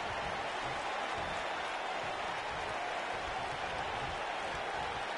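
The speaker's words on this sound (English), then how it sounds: "Wow, the crowd's on the edge of their seats." Steady roar of a crowd cheering in a wrestling video game, a dense continuous wash of noise holding at an even level throughout with no breaks.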